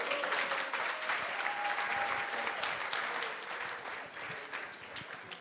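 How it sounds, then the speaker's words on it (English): Wedding guests applauding after the maid of honor's speech, a dense sustained round of clapping that tapers slightly toward the end. "Let's give her a round of applause one more time."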